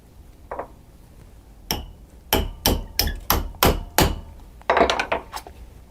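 A hammer strikes a rivet burr down onto a strap on an anvil while a custom ankle-foot orthosis is made: one early tap, then a run of about seven sharp, evenly spaced metallic blows, ending in a rattle.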